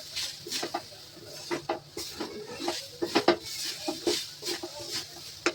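Grated coconut being stirred around a pan on a medium flame with a utensil, giving soft repeated scrapes and light clinks against the metal at close range, with no talking.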